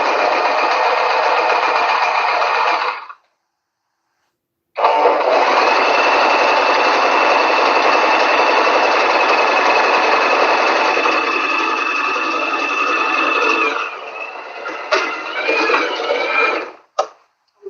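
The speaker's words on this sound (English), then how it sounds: "I'm sewing close to the edge as much as possible" A sewing machine stitches cloth near the edge in two loud, steady whirring runs with a brief pause between them, then stops and starts a few times before going quiet.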